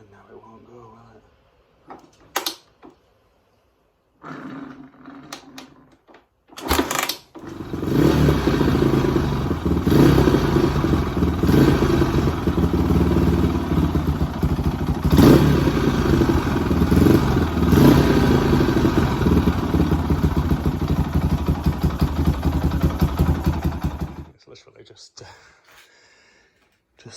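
A 1996 CCM C25 motorcycle engine is kicked over a few times with clatter and short bursts, then catches and runs loudly and steadily for about sixteen seconds before stalling, heard up close.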